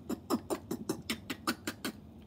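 A mouth-made beatbox duck hi-hat plays in a quick run of about ten crisp, evenly spaced quacky clicks, close and clear, with no talking. A human voice imitates the sound.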